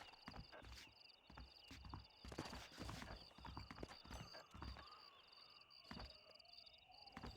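Horse hooves clip-clop on the ground in Red Dead Redemption, several horses walking with an uneven, steady rhythm and an occasional whinny, close and moderately loud.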